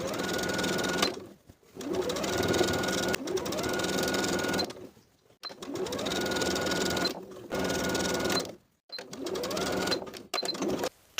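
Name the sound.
sewing machine stitching blouse neckline seam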